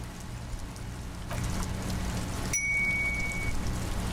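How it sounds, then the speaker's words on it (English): Steady rain falls in a video game, a continuous hiss of drops that thickens midway, with a brief high chime ringing through near the end. "This rain will not let up anytime soon."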